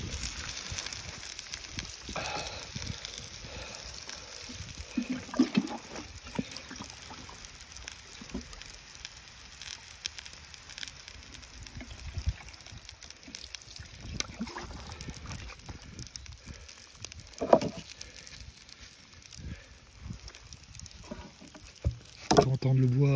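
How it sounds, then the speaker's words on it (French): Burning wood in a fire crackles and pops in faint, scattered snaps over a steady background hiss, with occasional sharper cracks and brief sounds of handling nearby. "On peut entendre le bois crépiter, ce qui prouve que c'est bien chaud."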